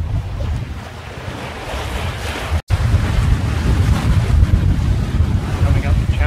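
Fresh wind blowing across a small sailing boat heading up a channel, loud gusting rumble and microphone buffeting over the wash of waves against the hull, with a brief dropout midway.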